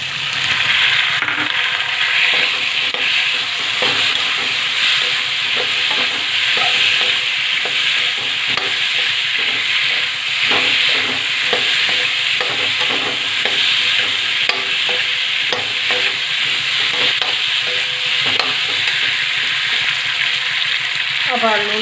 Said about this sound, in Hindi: मटर डाल दूँगी, गोभी डाल दूँगी,